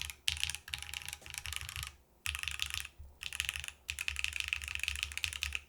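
Rapid clacking keystrokes on an Etar87 top-mount mechanical keyboard with a resonant spacebar, in bursts of steady typing broken by short pauses, close and without talk.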